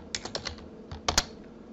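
Typing on a computer keyboard into a spreadsheet cell: a quick run of four or five close, light key clicks, a short pause, then a few sharper keystrokes, quiet and alone.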